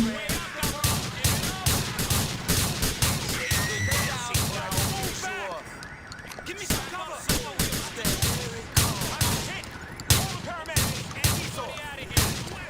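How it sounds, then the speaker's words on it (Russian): Rapid bursts of gunfire from a GTA 4 shootout, sharp repeated cracks in irregular volleys, loud and close, with someone talking between and over the shots. "Какая мразь тупая выстрелила из вас?"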